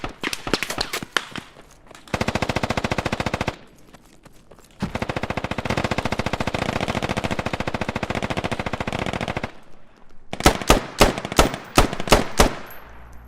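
Rapid automatic gunfire with heavy recoil in the tactical shooter Squad, fired in long sustained bursts separated by short pauses, then a string of sharp, loud single shots near the end.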